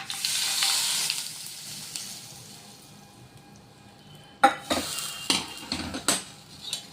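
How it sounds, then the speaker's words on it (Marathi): A sizzling tempering of cumin and mustard seeds poured into chutney begins as a fading hiss, then sharp clanks and scrapes of a spoon against the dish follow in several quick bursts. "आता हा तडका या चटणीमध्ये टाकून घ्यायचा आहे"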